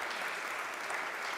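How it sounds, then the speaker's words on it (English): Steady, dense clapping from a conference audience thanking speakers at a panel event, an even wash of applause that holds at one level from start to end without a break or any voices. "Let's give them a huge round of applause."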